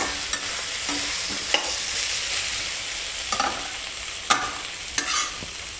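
Mutton curry with turmeric sizzles steadily in a pan, and a spoon stirs it with occasional knocks and scrapes against the metal over the continuous frying hiss.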